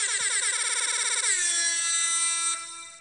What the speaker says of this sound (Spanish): Es una bocina. A mí eso me suena a bocina típica